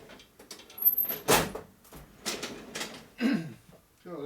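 A long drawer unit in a home workshop is pulled open, giving several short sliding clunks and rattles at close range, spread over a few seconds with brief pauses between them.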